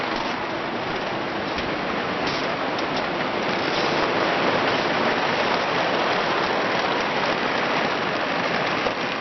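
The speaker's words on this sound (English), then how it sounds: "You can really hear the rain coming down loud." Heavy rain hammering on an off-grid solar camper on a cold, dark day, a loud, dense, unbroken roar of drops that stays steady throughout with no voices.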